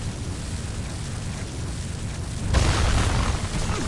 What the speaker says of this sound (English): after the explosion, if one of the shrapnel bits gets you, it still hurts quite a bit